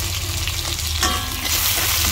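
Onions and mushrooms frying in a pan for carbonara give a steady, close sizzle with a brief stirring scrape partway through.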